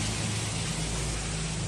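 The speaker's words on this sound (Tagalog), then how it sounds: "Ulan ng ulan." Steady monsoon rain falls in Baguio City in the Philippines, a dense continuous hiss with no pauses or voices.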